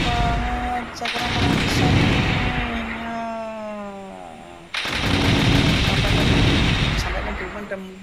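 Gunfire in the mobile game Sakura School Simulator, dense rapid bursts filling two long stretches with a brief quieter gap between, loud and close, mixed with game sounds and no talk.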